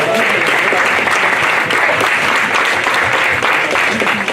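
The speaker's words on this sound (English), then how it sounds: "a round of applause" Loud, dense applause from the audience at a developers meetup, continuous clapping that fills the room close-up for several seconds without pause.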